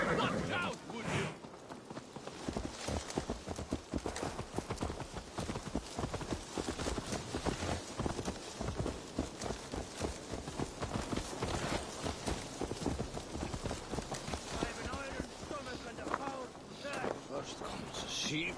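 Horse hooves clip-clop steadily while riding in Assassin's Creed Valhalla, a continuous rhythmic patter running the whole way through under frequent speech and game sounds.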